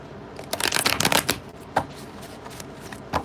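A deck of cards is shuffled for a psychic reading, close up and crisp, with a riffling flurry of rapid flicks followed by a few scattered softer taps and snaps; no talking.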